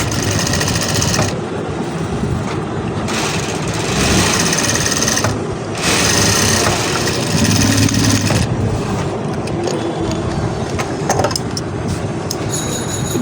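A sewing machine stitches the hem border of gabardine trousers, running loud and close in several long bursts with short pauses between them.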